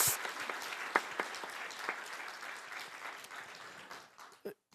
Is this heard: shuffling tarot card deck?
no